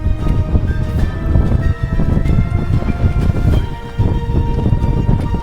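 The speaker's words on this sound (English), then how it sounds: "The wind picked up as we made our way to Lobuche, not a breeze, but a steady force, pushing against every step." Strong, steady wind roars through a high Himalayan valley on the trail to Lobuche near Everest Base Camp, a loud continuous buffeting that swells and gusts without pause, with no voices.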